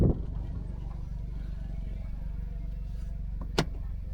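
The turbo engine of a parked right-hand-drive Smart Roadster idles with a steady low rumble, close by, in Victoria, British Columbia. A brief clatter breaks in near the end.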